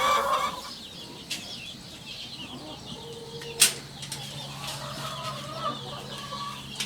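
Free-range chickens cluck softly and intermittently in a tent enclosure, with a sudden burst of wing flapping midway and scattered faint calls over quiet background.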